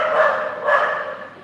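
A dog barks twice, close and fairly loud, in two quick throaty bursts with a short gap between them.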